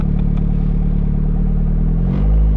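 A Miata with a newly built forged 1.6L compound turbo engine, being broken in, runs loud and close with a steady drone, then revs up sharply near the end.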